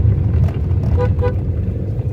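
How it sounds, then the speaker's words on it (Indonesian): A car horn gives two short close toots on a steep hairpin mountain road, over a steady engine and road rumble. "Jadi kita harus bunyikan klakson saja, jangan ragu-ragu untuk mewarning dari pihak arah berlawanan"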